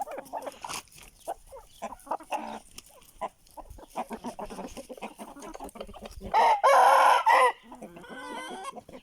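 Chickens cluck and call nearby, then an Aseel rooster crows loudly, followed by more fowl chatter.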